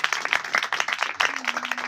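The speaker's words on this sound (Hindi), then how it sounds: "जोरदार तालियां बजा दो।" A church congregation claps loudly and steadily, many hands blending into dense, continuous applause that carries on without pause.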